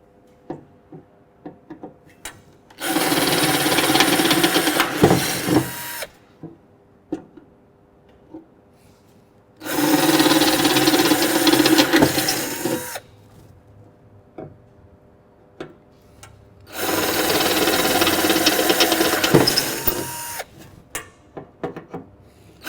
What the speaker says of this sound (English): all you need to do is open the pre-drilled pilot holes using an 8mm drill bit